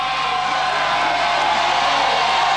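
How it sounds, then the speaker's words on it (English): At the 1999 X Games vert skateboarding event, a large crowd cheers and whoops loudly and continuously in a dense, steady roar that carries through the whole stretch. "And look at the crowd encourage him"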